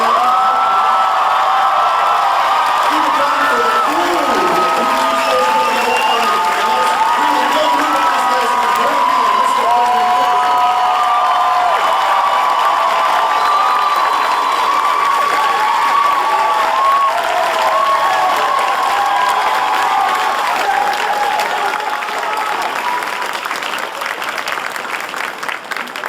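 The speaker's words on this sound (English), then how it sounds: "Can we get a round of applause for our American" A loud convention crowd at Megacon applauds, cheers and whoops for nearly half a minute, a dense continuous roar with high shouts and voices mixed into the clapping, barely easing toward the end.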